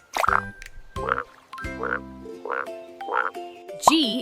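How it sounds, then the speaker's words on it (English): A frog croaks about five times in a steady, evenly spaced rhythm, each croak short, close and fairly loud against a quiet background. "F is for frog"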